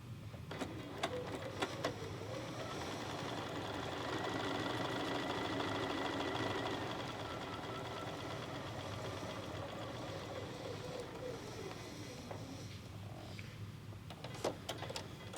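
A sewing machine runs a steady quarter-inch seam through pillow fabric, whirring continuously at close range without pause and with no talking over it.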